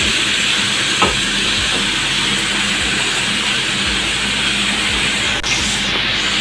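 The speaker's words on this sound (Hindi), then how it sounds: "चिकन को इसके साथ फ्राई करेंगे।" Chicken frying in a pan for Shahjahani pulao, a steady loud sizzle and hiss filling the whole stretch, with a few soft stirring knocks underneath and no talking.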